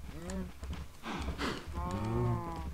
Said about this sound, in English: Let's get this cow in here as well.